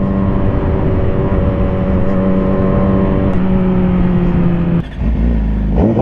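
Car engines idling and revving on a road as a group of boys get ready to race, a steady close rumble throughout with a brief dip and a louder surge near the end.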